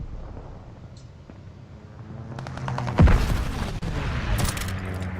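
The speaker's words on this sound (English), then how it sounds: "Allied airstrike coming in hot." An airstrike hits in a first-person shooter match, a rising rumble that breaks into a heavy boom around the middle, followed by crackling blasts and rapid gunfire layered behind.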